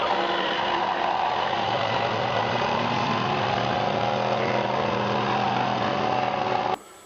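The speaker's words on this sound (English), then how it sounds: "I used my jigsaw to make the majority of the cut." Jigsaw cutting through a desk top during an office renovation, a steady loud buzzing motor with a rasping blade for about seven seconds before abruptly cutting off at the end.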